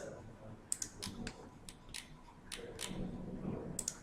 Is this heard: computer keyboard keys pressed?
yes